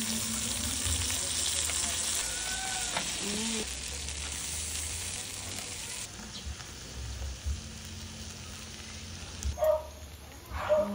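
A pork steak sizzles on a hot plate with a steady, crackling fry that eases slightly partway through. Faint voices and occasional kitchen clatter sit under the sizzle.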